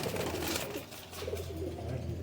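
Pigeons, native and striped, coo softly in a low, repeated murmur that runs through the whole short stretch, fairly close against steady background noise.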